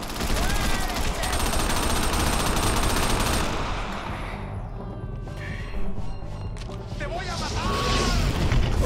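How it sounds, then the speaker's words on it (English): Dense bursts of rapid gunfire rattle and boom in Crackdown on Xbox 360, fading briefly before another volley of shots and impacts returns, with voices in between. "Oh, good lord, that's a lot of gunfire."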